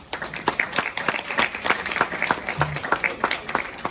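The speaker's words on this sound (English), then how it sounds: "Can we give these ladies a little round of applause?" Audience applause at a hands-on essential oil adulteration demonstration, a steady patter of many hands clapping at moderate volume for several seconds, with faint voices mixed in underneath.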